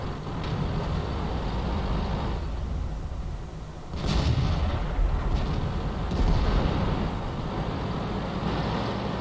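A Skoda tank fires single shots in a tank video game, its heavy booms landing a couple of seconds apart over a steady, rumbling battlefield drone.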